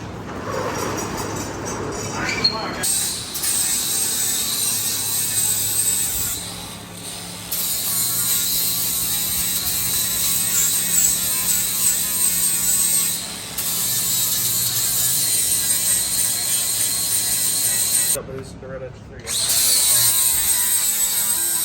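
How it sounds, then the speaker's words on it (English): A grinder with a flap disc screams steadily at a high pitch for a long stretch, loud and up close, with brief dips where the disc lifts off and bites again. "It's a gnarly freaking grinding disc, dudes."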